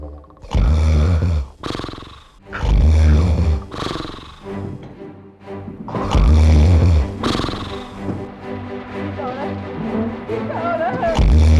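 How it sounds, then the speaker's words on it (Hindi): Loud, rumbling snores repeat in deep, drawn-out waves, each harsh inhale rattling close by before fading, then starting again. "अब मेरी नाक से निकले 100 वोल्ट के खर्राटे"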